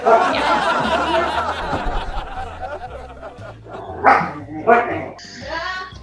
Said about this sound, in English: Who's that dog?